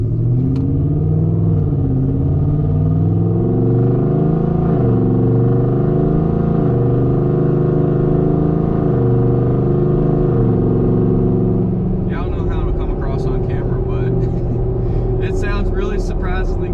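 A 2024 Ford F-150 with a homemade muffler delete holds mid throttle. A loud, steady, deep exhaust drone rises and dips slightly, with a voice briefly over the rumble near the end.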